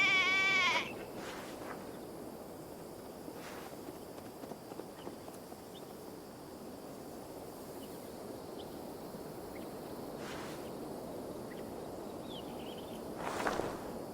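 Sheep bleating in Assassin's Creed Valhalla, one loud bleat at the start and then quieter, softer calls over a steady outdoor game ambience, with a brief louder burst near the end.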